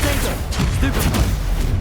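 A Stupefy spell is cast in a Harry Potter video game, giving a dense cluster of sharp, booming magical bursts over busy game effects.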